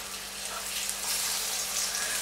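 Naan flatbread frying in a pan gives a steady, soft sizzle and hiss throughout, close and moderately quiet, with no talking.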